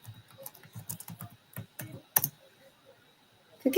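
Rapid bursts of keyboard typing, clustered clicks with brief pauses, close up, followed by a sharper clack and a louder rustle at the end.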